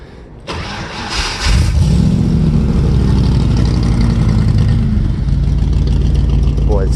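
1966 Shelby Cobra with fuel injection cranks and fires, its engine catching with a rising roar, then settling into a loud, steady, rumbling idle close by.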